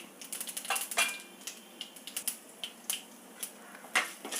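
Mustard seeds and urad dal splutter in hot oil in a pan, a rapid irregular patter of sharp little pops and crackles, close and fairly crisp, with no voices.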